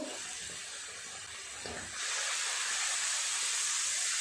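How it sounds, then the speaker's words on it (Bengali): A soft background hiss, then a sudden louder, steady sizzle as spice paste hits hot oil and keeps crackling. "যে মশলাটা একসাথে পেস্ট করে রাখলাম দিয়ে দিলাম।"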